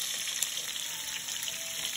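Floured pieces frying in a hot skillet, a steady close hiss and crackle of sizzling oil without pause.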